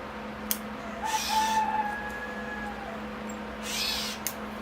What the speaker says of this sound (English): That bird you hear in the background is giving me heck because it has a nest nearby